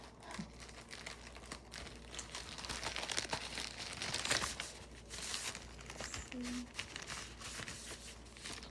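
Stiff, never-opened punch cards for a Singer knitting machine are unwrapped, giving steady crinkling and crumpling of packaging close by, with a few tearing bursts and talk at intervals.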